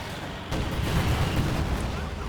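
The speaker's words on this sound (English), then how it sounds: "Nasty bombing run" Fragmentation bombs from a bombing run pound the ground in Company of Heroes 2, a loud continuous barrage of overlapping booming blasts and rumbling debris.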